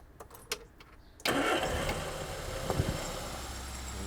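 A vintage Austin Metro car, its carburettor just repaired, cranks briefly with a few clicks and then fires into a loud, steady idle that runs on close by without talk.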